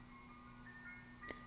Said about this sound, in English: That creepy ass ice cream truck.